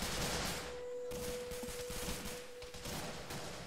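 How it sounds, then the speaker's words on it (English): Dense, continuous gunfire in Arma 3 during a Vietnam-era open-world operation, a sustained roar of overlapping shots with no clear gaps, loud and unbroken across the whole stretch. "You still hear all this gunfire."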